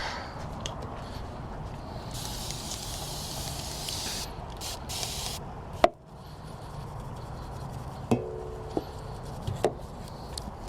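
Detailing spray is misted onto a 2022 Toyota Corolla Hatchback during a rinseless wash: a few close, hissing spray bursts, then quiet handling with some sharp taps and clicks.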